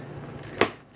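A single sharp knife chop on a cutting board trims the end off a garlic clove, one brief close tap in an otherwise quiet kitchen.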